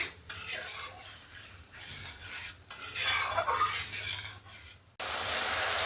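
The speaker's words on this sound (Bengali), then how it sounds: "এরকম মশলা ধোয়া জল দিয়ে ভালো করে মশলাটাকে কষিয়ে নেব যতক্ষণ না আদা রসুনের কাঁচা গন্ধটা যাচ্ছে।" Spice paste of ginger and garlic is sautéed in a pan with splashes of water, a scraping spatula stirring against the metal over a hissing sizzle that swells midway and then jumps to a loud steady hiss near the end.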